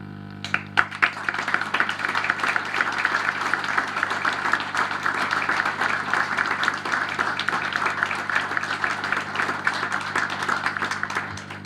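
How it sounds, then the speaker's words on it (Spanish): Audience applause for a poet after he recites verses at a book launch, a dense steady clatter of many hands that holds for the whole stretch at moderate loudness, with a low steady hum underneath. "Me sumo al aplauso para Julio por estos versos hermosos."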